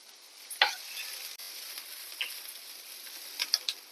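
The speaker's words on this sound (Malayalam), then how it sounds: "എല്ലാം കൂടി നല്ലോണം ഇളക്കി യോജിപ്പിക്കാം." Egg and spinach thoran frying in a pan is stirred, giving a soft steady sizzle with a few scraping clicks of the spoon against the pan.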